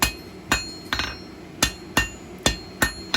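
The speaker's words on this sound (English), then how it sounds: "half face blows over the far edge of the anvil" Hammer blows on hot steel at an anvil's far edge, half-face strikes drawing a short point for a forged leaf key ring: seven sharp, ringing metallic hits spaced about half a second apart, close and alone.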